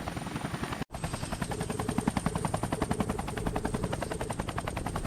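Enemy helicopter in the Vietnam-era combat flight game Air Conflicts Vietnam, with a steady rhythmic rotor chop after a brief cut. Machine-gun-like fire and engine drone sit underneath the beating blades.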